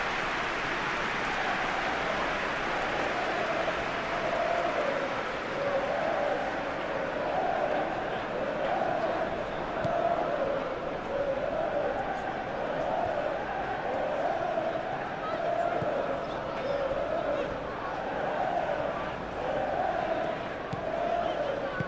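Steady roar of a stadium crowd at a Manchester City versus Real Madrid Champions League match in PES 21, a dense continuous swell with rhythmic surges of chanting throughout.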